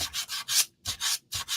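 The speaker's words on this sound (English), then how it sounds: "sandpaper over the top just to smooth it out" Sandpaper rubbed by hand over a decoupaged white napkin on a hard plastic tray, making three bursts of scratchy back-and-forth strokes with short pauses between, close and fairly loud.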